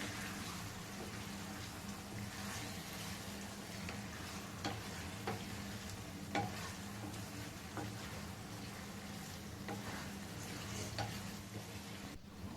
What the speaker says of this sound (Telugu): నెమ్మదిగా ఎగ్ని అయితే ఒకసారి కలుపుకోవాలి మొత్తం కలిసేదాకా.